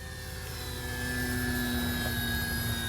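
An FMS CJ-6 radio-controlled model warbird airplane flies overhead, its engine giving a steady, continuous drone with a constant whine that holds level and grows slightly louder partway through.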